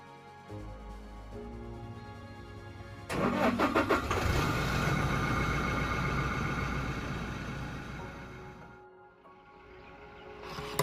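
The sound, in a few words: car engine starting and driving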